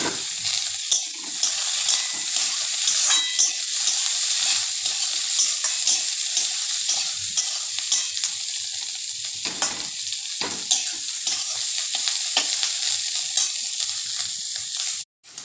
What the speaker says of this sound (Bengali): ভাজা ভাজা হয়ে গেছে এবার লাস্টে বিনসটা দিয়ে দিলাম